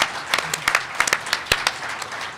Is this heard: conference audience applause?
yes